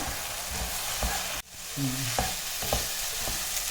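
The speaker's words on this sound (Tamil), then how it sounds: "நீங்கள் நல்லா தயிர் சேர்த்து வெண்டைக்காயை நல்லா வதக்கிட்டிங்கன்னா" Okra sautéed with curd in a pan sizzles steadily while a utensil stirs it, scraping the pan several times, with a brief dip in the frying noise partway through.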